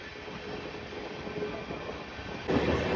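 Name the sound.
train slowing on approach to station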